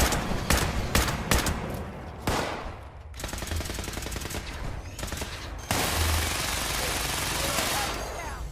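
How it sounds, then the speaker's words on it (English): Dense bursts of automatic gunfire in the Fallout 76 video game rattle continuously, with sharper single shots at the start and sustained loud fusillades after, and faint voices now and then. "I'm taking fire! Taking heavy fire!"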